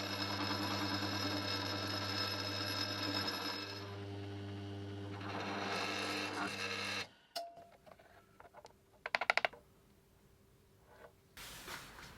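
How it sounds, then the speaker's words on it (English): A steady mechanical whine of a power drill boring holes into a woodturned wooden piece for several seconds, then it stops, followed by a few sharp clicks and knocks. "those holes are a lot harder to drill than I thought"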